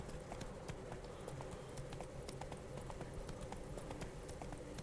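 Horse hooves clip-clop in The Witcher 3 during the Blood and Wine expansion, a steady rhythmic trot of soft clicks beneath a constant ambient game background, faint overall.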